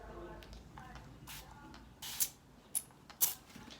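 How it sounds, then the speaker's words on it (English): Three short, quiet spritzes from a spray bottle hiss in quick succession after some faint handling noises. "So you're just going to spray your brush."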